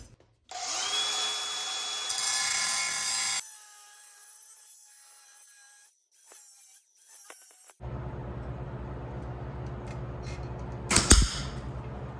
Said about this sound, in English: I'm just going to cut it off just maybe a little bit shy of my mark.